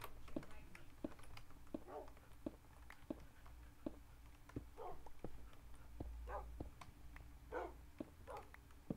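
Dogs in the Minecraft video game give short, sparse barks and yips against faint, rapid clicking like keyboard taps, all quiet and close.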